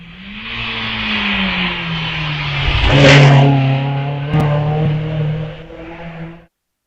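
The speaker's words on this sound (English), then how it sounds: "As across the parkline goes David Newman, contesting the Bristol 2-litre Cup." A race car in the Bristol 2-litre Cup at the Wiscombe Park hillclimb accelerates hard away from the start line. Its loud engine note rises steadily through the gears, peaks close by, and then fades slightly as the car pulls away.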